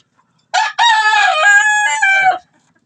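A mountain red junglefowl (labuyo) rooster gives one loud, clear crow close by, starting with a short note and then a long drawn-out call of about two seconds, set against quiet surroundings.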